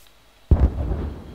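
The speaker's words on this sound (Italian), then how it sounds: "Cos'è quell'esplosione?" A Minecraft explosion booms in the video game, one sudden deep blast that hits hard and then fades into a rumbling tail lasting under a second.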